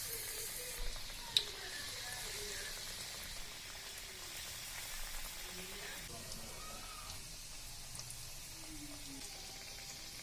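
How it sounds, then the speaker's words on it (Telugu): Chicken nugget pieces sizzle in medium-hot oil for deep frying, a steady, fairly faint crackle with occasional pops and light clinks throughout. "ఆయిల్ మీడియంగా హీట్ అయిన తర్వాత ఒక్కొక్క పీస్ని వేసి ఫ్రై చేసుకోవాలి."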